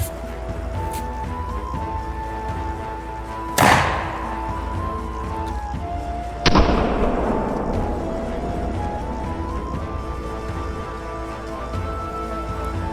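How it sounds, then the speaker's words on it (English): A hand cannon fires two sharp, loud booms a few seconds apart, each followed by a decaying rumble over a steady background hum. "So we'll see how this goes when we take our next shot using the dull gray."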